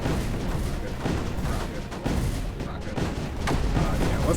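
Rockets firing in the strategy video game Creeper World 4, a dense run of loud repeated booming blasts that overlap continuously, with someone talking over them.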